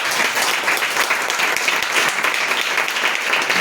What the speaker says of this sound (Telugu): గట్టి చప్పట్లు కొట్టు